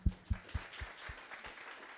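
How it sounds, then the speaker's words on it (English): Audience at a networking masterclass clapping hands, with several loud claps at the start settling into a softer, steady patter of applause. "let's clap hands for the guys that told us about the people next to them."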